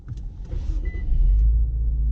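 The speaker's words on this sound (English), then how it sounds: "If we start the car here" A 2019 Infiniti Q50t luxury sedan starts up from inside the cabin, a brief click and whir followed by a low engine rumble that swells and settles into a steady, close idle.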